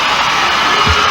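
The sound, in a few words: audience applause and cheering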